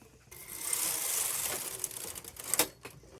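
A knitting machine runs a carriage across one row, a close, even mechanical whirr and clatter that rises, holds, then ends in a few clacks.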